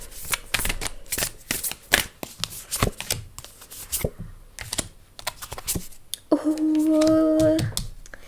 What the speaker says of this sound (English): I'm going to shuffle these a little bit differently because my hands don't stretch all the way around.